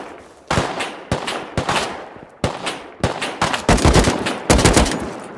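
Gunfire during a video game raid: a string of loud, sharp single shots and quick doubles, close and prominent, each followed by a short decaying tail, speeding up toward the end with no talk over it.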